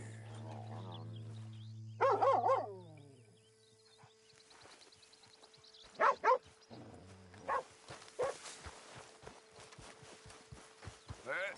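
A dog barks in Red Dead Redemption 2, a western video game, with a few loud, sharp barks in separate bursts. Horse hooves clop steadily in between, and faint game ambience runs underneath.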